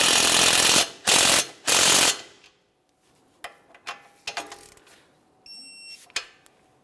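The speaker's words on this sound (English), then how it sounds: "Now we'll tighten that mounting nut and torque it to 43 foot-pounds." A torque wrench ratchets a tie rod mounting nut on a 2014-2018 Mazda 3: three loud, close bursts of rapid clicking, then quieter scattered ticks and clinks of the tool.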